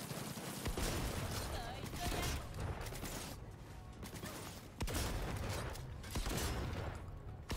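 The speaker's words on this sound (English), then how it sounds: "It's Rebecca's shotgun time." Rebecca's shotgun fires repeatedly in a Cyberpunk Edgerunners game, with heavy blasts amid dense combat noise, mechanical clanks and booms, the shots coming in irregular bursts.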